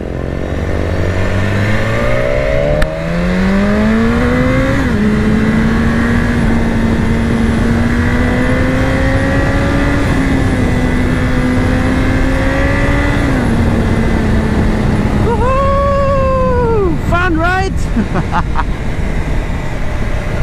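A BMW S1000RR sport motorcycle engine revs hard and climbs steadily in pitch, holds a high whine, then blips sharply up and down several times near the end.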